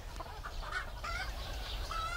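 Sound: hens clucking

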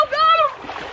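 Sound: water splashing into a full pool down a slide

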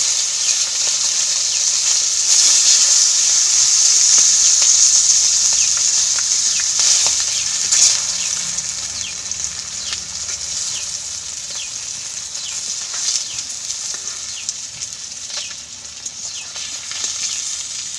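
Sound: fish frying in oil

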